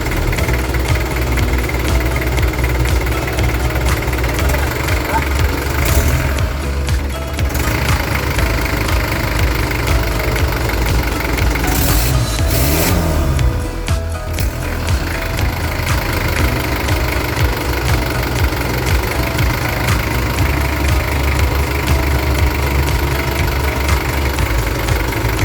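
An engine idles steadily with a rough knocking clatter while its diesel injection pump is adjusted, a loud, close, unbroken mechanical drone with slight shifts in tone, no voices over it.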